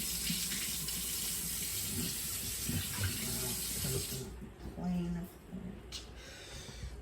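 Kitchen tap running into a sink for a quick rinse while making a microwave s'more and hot cocoa, a steady close stream that cuts off near the end, with some faint talk nearby.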